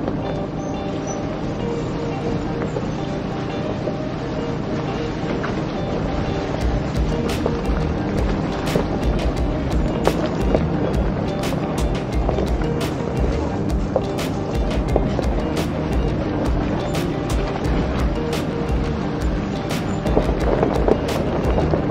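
An overland vehicle rolls along a groomed 34-mile loop trail near Bowman Lake, California, its steady engine drone and road rumble continuing throughout, with frequent small clicks and knocks from the cabin and bouncing ride.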